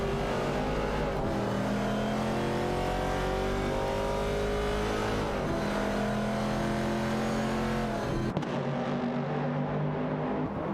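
Race cars in a video game, a Dodge Challenger and an AMC Javelin, with engines droning and shifting pitch as they run hard together, a continuous loud blend that cuts off abruptly near the end.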